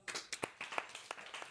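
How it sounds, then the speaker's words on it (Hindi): Several hand claps in a quick, uneven series inside a classroom, sharp and fairly close, with no talking over them. "ताली बजाओ।"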